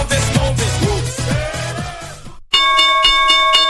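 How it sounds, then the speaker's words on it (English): A chimes sound effect rings out in an NBA picks show, a bright sustained metallic tone entering abruptly after a loud burst of music and hanging on clearly to the end. "Got to do the chimes, right? Got to have the chimes in there right now."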